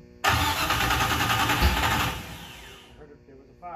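A 1966 Ford Mustang Boss 302 V8 fires for the first time, cranking straight into a loud, rough roar that runs for a few seconds, then drops toward a quieter idle as voices come in at the end.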